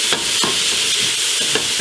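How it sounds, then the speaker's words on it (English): Celery sautéing in a pan, a bright steady sizzle broken by several quick spatula scrapes. "we're going to let this saute for a little while longer"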